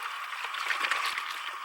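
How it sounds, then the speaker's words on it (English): Steady wash of ocean surf played back through computer speakers, a continuous soft hiss with gentle swells, fairly quiet and unbroken, with no talking over it. "If you hear the ocean in the background, it's on my computer."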